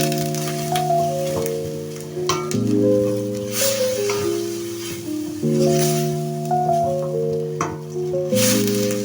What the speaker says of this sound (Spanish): acá como ven, está friendo nuestra cebollita